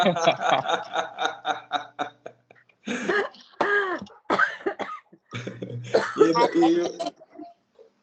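Someone clears their throat and coughs several times in quick succession, followed by brief talk and a short chuckle nearby.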